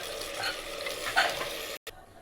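Chicken pieces sautéed in a hot turmeric tempering inside a pressure cooker for a spicy chicken masala, a steady close hiss and scraping stir that ends in a brief silence, then resumes more quietly.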